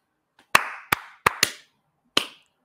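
Five sharp, isolated hand claps from a couple of people, spaced irregularly with a quick double clap in the middle, each close, loud and ringing briefly in a quiet room.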